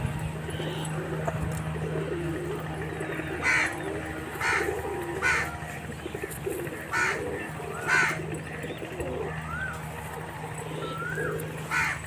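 Pure Indian breed pigeons coo in repeated low, rolling calls, close and moderately loud, mixed with occasional crow-like caws over a constant low hum.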